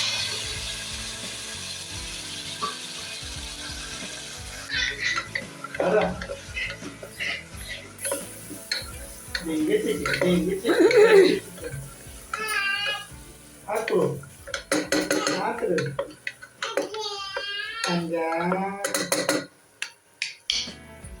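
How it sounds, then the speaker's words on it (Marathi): Onion and tomato go into hot oil in a pan, bringing sizzling frying along with clanking and scraping as a utensil stirs against the cookware. Someone talks over parts of it. "तेल गरम झाले तर त्याच्यात टाकते मी कांदा आणि टमाटर"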